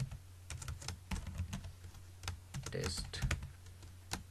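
Keys clack on a computer keyboard in irregular bursts of quick taps, fairly close and quiet, while a single spoken word briefly cuts in.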